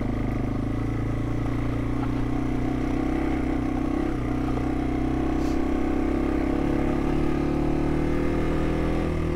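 A Yamaha TW200 dual-sport motorcycle engine drones steadily and loudly while being ridden along a wooded trail, the close mechanical rumble holding even throughout with slight clatter and no voices.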